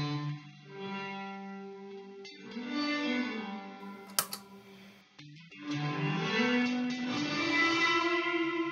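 Electric guitar notes ring out through an Eventide Blackhole reverb pedal, each chord leaving a washy, lingering tail that fills the space.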